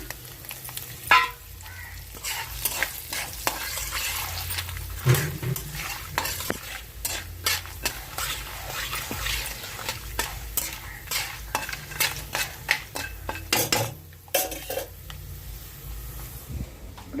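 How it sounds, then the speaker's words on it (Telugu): Tempering spices and green chillies fry in a pan with a continuous sizzle, punctuated by repeated scraping stirs of a utensil against the metal. "పోపులు వేగినాయండి ఇప్పుడు మిర్చి వేసుకుందాము"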